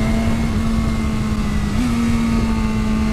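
A BMW motorcycle engine holds a steady, loud hum at high revs, with one quick pitch jump partway through, as from a quick-shifted gear change.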